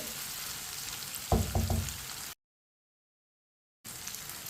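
Tomatoes and green chillies sizzle in oil for bhindi fry as a spoon stirs them, with a brief burst of scraping knocks over a steady frying hiss, which cuts out to silence before returning.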